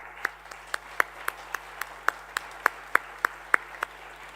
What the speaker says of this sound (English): So I'd like you all to give yourselves a big round of applause.